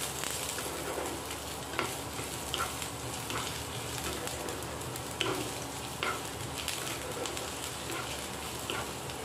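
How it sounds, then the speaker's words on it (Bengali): Chopped ginger frying in oil makes a soft, continuous sizzle with scattered stirring clicks, and pigeons coo faintly in the background. "কুচানো আদা, এটা একটু ভালো করে ভেজে নেব।"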